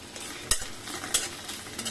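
Onions frying in a pan give a steady soft sizzle, broken by a few sharp scraping stirs of a utensil against the pan; no one speaks.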